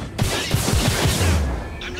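Support gunfire in a video game, a quick burst of several repeated shots close together with a deeper boom trailing off, under the ongoing game din.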